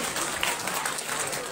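An audience at a children's event in Nirmand applauds a young boy after his song, a dense, steady burst of clapping that fills the moment at even loudness from start to finish.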